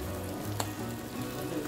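Prawns fry in oil with a steady, close crackling sizzle and one brief sharper pop partway through, continuous across the short stretch without speech.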